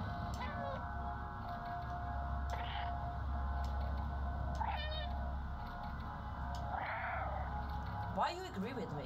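An in-game cat in Stray meows several times, short separate meows over a steady low ambient hum, with someone talking in between.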